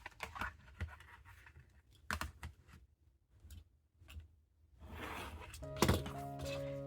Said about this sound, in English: I will directly cut this corner like this.